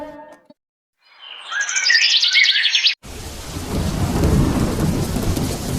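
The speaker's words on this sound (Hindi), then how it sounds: "अरे हर साल की तरह इस साल भी बारिश आ गई।" Cartoon rain and thunder effect: a burst of bird chirps with a faint rumble, then steady loud rain hiss with rolling thunder underneath, close and continuous.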